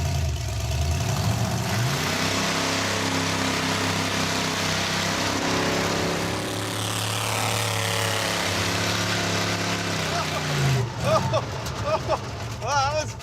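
A car accelerates hard down a drag strip, fishtailing on the track, with a loud sustained engine note rising steadily for about ten seconds before it fades and excited voices take over near the end.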